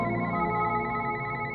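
A telephone rings in a video game, a continuous, loud, throbbing electronic ring that fills the whole moment with no talk.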